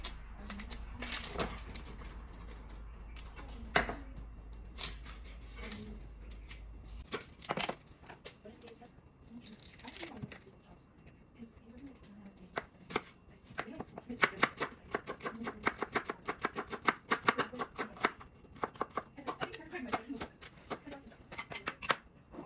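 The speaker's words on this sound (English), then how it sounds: "I'm gonna cut up some mushrooms, and these are just your regular button mushrooms that I've washed" A knife chops washed button mushrooms, half an onion and garlic cloves on a cutting board, giving quiet, rapid, irregular taps that grow denser and steadier toward the end, with a low hum in the first seconds.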